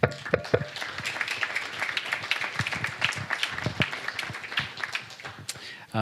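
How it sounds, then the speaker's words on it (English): Scattered, uneven clapping at a veterans luncheon in Ashland, with distinct individual claps over a murmuring room and some voices underneath. "So give yourselves a big round of applause."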